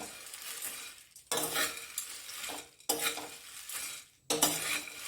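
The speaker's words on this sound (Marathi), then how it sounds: "तेजपान हे सगळं परतून घ्यायचं अगदी मंद आचेवर" Whole garam masala spices and bay leaf are stirred in a pan over a low flame, scraping and clinking in bursts with a soft sizzle, close and busy, pausing briefly between stirs.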